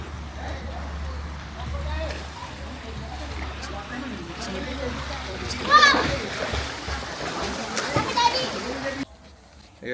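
Children splash and play in a swimming pool on a holiday trip to Terengganu, with water slapping and churning close by under children's chatter and voices.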